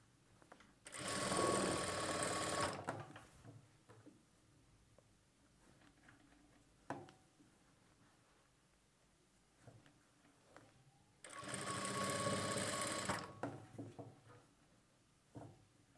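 Two loud bursts of sewing machine stitching on a blouse, each about two seconds of rapid close whirring, separated by quiet handling clicks and light knocks.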